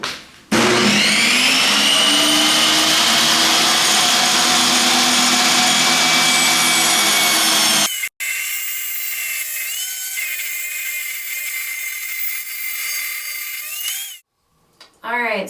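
A table saw rips about half an inch off the front edge of a wooden shelf, a loud continuous whining cut for several seconds, then the blade keeps spinning freely with a shifting tone before winding down.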